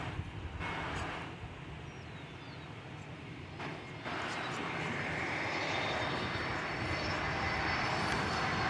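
An American Airlines Airbus A321, flight 810 at DFW Airport, roaring jet engines that grow steadily louder and fuller, heard outdoors with wind noise, with a voice talking early on.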